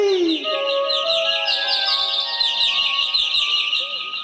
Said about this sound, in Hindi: इन पेड़ों पर चहकने वाले पंछी